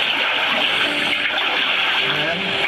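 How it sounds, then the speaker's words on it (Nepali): Water splashing and rushing inside Deurali cave, a steady, loud wash of flowing water that fills the space without a break, with no one talking over it. "पानी रहेछ है भित्र। पानी रहेछ यहाँ है।"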